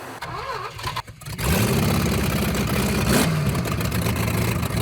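A junkyard big-block V8 swapped into a Suzuki Samurai cranks briefly, then fires and settles into a loud, rough, continuous rumble close by.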